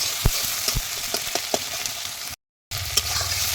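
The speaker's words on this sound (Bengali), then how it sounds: "আবার 1 মিনিট এই টমেটো মজে যাবে, সেই জন্য একটু নেড়ে চেড়ে ভেজে নেব।" Tomato cooks with garlic in a hot pan. Close, sharp spatula scrapes and taps sound over a continuous sizzle, with a short full silence partway through.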